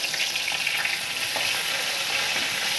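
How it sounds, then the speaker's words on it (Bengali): Garlic and nigella seeds fry in hot oil with a steady, close hiss and crackle that holds evenly throughout, with no voices. "প্রথমে তেলে আমি রসুন কালো জিরে দিয়ে দিলাম"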